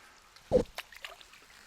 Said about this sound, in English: So I paddle on the left gently and I veer to the right.